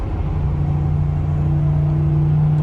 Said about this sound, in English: we're going 50 miles an hour. We're in 9th gear.